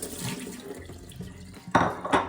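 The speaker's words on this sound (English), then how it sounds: "Now I'm going to drain the water out of the shrimp." Water drains out of shrimp in a home kitchen while breakfast is made. It comes as short splashing pours with light clinks of a pot, and a stronger gush at the end.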